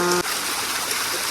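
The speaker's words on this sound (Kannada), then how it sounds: "ಜುಳು ಜುಳು ಜುಳು ಅಂತ ಹರಿತಾ ಇದೆ ನೀರು" Mountain stream water flows steadily on the Kumara Parvatha trek in the Western Ghats, a continuous bright trickling rush heard up close after a brief tonal sound at the very start.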